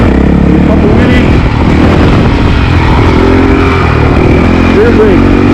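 A Honda CRF450L dirt bike's engine roars and revs hard as it lifts into a wheelie, loud and close throughout with shifting pitch, a voice talking over it.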